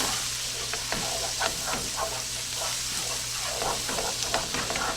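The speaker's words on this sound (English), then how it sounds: "Now I want that butter to melt because we're going to start adding our flour here in just a second." Butter melts in a pan with a steady, soft sizzle and light crackling, continuous and fairly quiet, with occasional small clicks from stirring.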